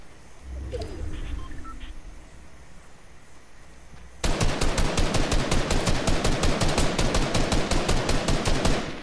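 Fortnite gunfire: after a few seconds of quieter game ambience, a rapid automatic weapon opens up in a long, loud, evenly spaced burst of many close shots that continues to the end.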